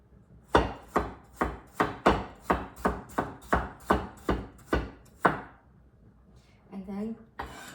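A knife chops celery on a board in about a dozen sharp, evenly spaced strokes, loud and close, followed by a brief pause and a short burst of talk.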